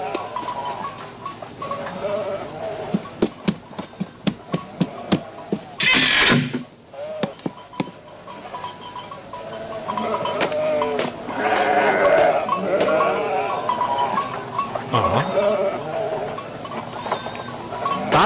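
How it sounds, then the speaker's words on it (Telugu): Goat bleating in a village backyard, several wavering cries rising over rustling and clattering noise, with people talking faintly in the background. "వాళ్ళ మేక ఇక్కడ ఉంది కదా, దాన్ని తీసుకెళ్ళడానికి వస్తున్నారేమో."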